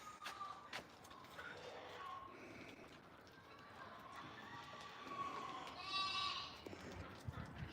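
Sheep bleating at a farm animal rescue centre, a few bleats rising over a busy outdoor background with other livestock calls and a voice talking nearby.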